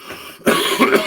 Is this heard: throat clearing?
yes